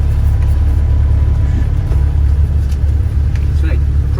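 A car rumbles along on the road, a constant low engine and road drone running without break from start to end.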